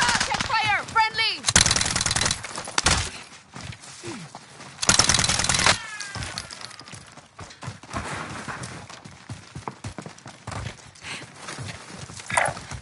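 Gunfire in a military video game: two loud, sustained bursts of rapid shots stand out against quieter scattered shots and clatter, with voices calling out between them.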